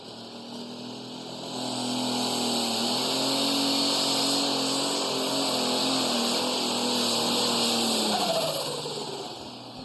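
A pulling tractor's engine roars at a tractor pull competition, a loud sustained drone that climbs and holds steady through the run, then drops in pitch near the end as it winds down.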